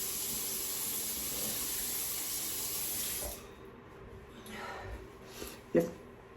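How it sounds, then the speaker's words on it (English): Warm water runs steadily from a tap for about three seconds while a face is rinsed, then cuts off, leaving faint drips and small splashes. "You want to rinse it off again in warm water, not hot, warm."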